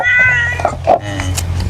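A cat meowing loudly and close up while being given food, with drawn-out cries followed by a couple of shorter mews.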